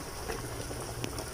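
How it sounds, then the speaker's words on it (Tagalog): Sinigang na talakitok broth, a Filipino sour fish soup, bubbles at a steady boil in a pot, giving a close, continuous wash of small pops and gurgles with no voices over it. "Kumukulo."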